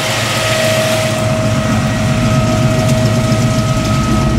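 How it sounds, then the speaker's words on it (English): A car engine idles steadily and loudly with a constant hum and whine while the air conditioning is switched on at normal blower speed, loading a GM one-wire 100 amp alternator. "I'm just gonna simply turn the AC on to a normal, standard blower speed."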